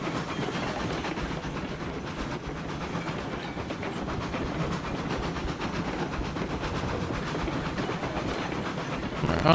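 Train rolling along tracks in the game Railroads Online, a steady dense rumble with rhythmic clattering and hiss, loud and continuous throughout with no talking.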